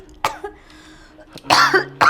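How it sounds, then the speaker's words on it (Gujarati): A person coughs in short harsh bursts, a couple of separate coughs followed by a louder rough fit with throat clearing, close up and without speech. "અરે બેટા, બહુ ખાંસી છે,"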